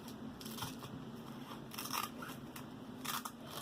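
Scissors snip through a Velcro strip down the middle, giving soft crunching cuts heard close and quiet in a few irregular bursts over a low background hiss.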